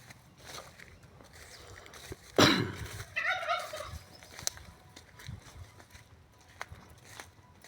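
Turkey gobbling once in a loud, rapid burbling burst near the middle, close by, with faint outdoor background noise and a few soft knocks around it.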